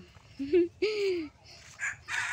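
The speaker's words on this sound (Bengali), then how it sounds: "মোরগের ডাক শুনতে কার কার ভালো লাগে?" A rooster on a rural family homestead crows in a few close, rising-and-falling calls separated by short pauses, with fainter clucks and bird sounds filling the gaps.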